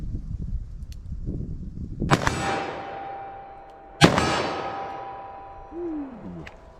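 Two loud .44 Magnum handgun shots fired at an outdoor range toward targets 25 yards away, each a sharp crack with a ringing tail, spaced about two seconds apart over light background noise.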